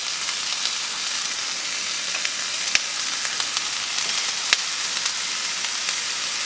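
Crepe cooking in butter in a pan, a steady bright sizzle and hiss with a few sharp pops, close and continuous, no voices.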